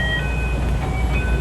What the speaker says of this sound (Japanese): 花店駅を発車。